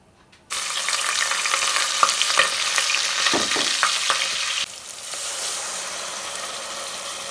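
Jollof rice fries in a pot with oil, a loud, close, steady sizzle that starts abruptly, with scraping stir strokes and clinks throughout before the sizzle settles slightly quieter.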